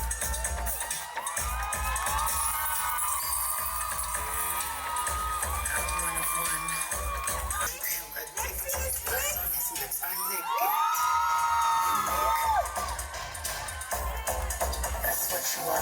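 A lively crowd at a hair celebration festival cheers and shouts, with children's whoops and excited voices forming a continuous loud roar throughout.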